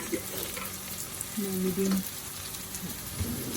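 Onions and green chili paste sizzling in melted butter over high heat, a steady crackling hiss throughout with a few brief louder tonal clinks from stirring near the middle.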